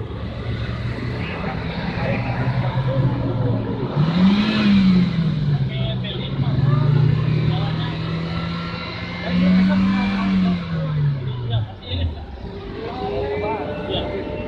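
A Hyundai police patrol car engine revs twice, its pitch sweeping up and holding high before dropping back to idle. The engine is loud and steady between revs, with talk in the background.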